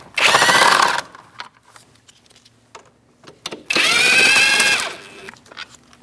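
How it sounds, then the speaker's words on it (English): Power tool whirring in two separate bursts, about a second each, while bolts are backed out with an 8mm socket and extension on a 2000-2006 Mini Cooper during brake master cylinder replacement, with quiet clicks and handling noises between the bursts. "Using an 8mm socket and an extension, I'm going to take out, there's a bolt here and there's one here."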